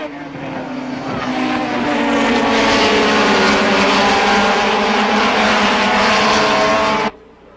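A pack of race cars roars off at the start of a 1989 SCCA National Championship race. The loud, building engine howl swells and sustains for several seconds, then cuts off abruptly.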